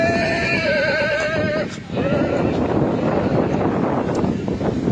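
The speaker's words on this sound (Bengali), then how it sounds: "আরও একটা ভালো বড় ঘোড়া দেখা গেছে, তারপরে যাওয়া যাক।" A large horse at a crowded horse fair lets out a loud, close, quavering whinny that breaks off briefly and resumes, over a dense outdoor crowd murmur and wind noise.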